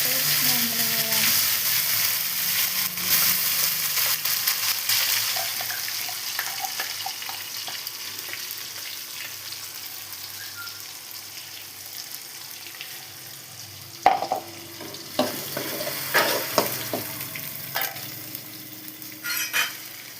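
Spice paste frying with mustard seeds and curry leaves in oil, a continuous sizzle with a spoon scraping and stirring in the pan, louder at first then fading, with sharper clinks near the end.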